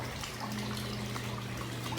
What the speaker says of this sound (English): So that's slower water flow from that pump.